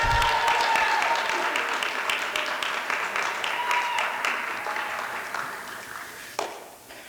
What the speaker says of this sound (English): So give some love, some snaps, and some claps for Talea